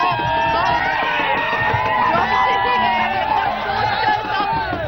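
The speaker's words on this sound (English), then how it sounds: "people going absolutely crazy, absolutely berserk, and really the crowd is already increasing" A large crowd at a Jallikattu protest shouts and cheers, and voices rise in a continuous, loud roar of overlapping cries and chants close by.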